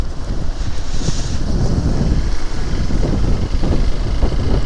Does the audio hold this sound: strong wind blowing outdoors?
yes